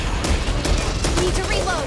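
Gunfire in the zombie shooter Back 4 Blood, a dense clatter of shots layered under game voices and chaotic action noise, loud and close.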